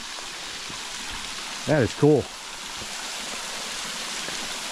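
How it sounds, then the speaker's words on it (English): Round Island Run Falls in Pennsylvania pours as a constant, even rush of water, a steady broadband roar that runs the whole time while a person briefly speaks over it. "Definitely a unique looking waterfall."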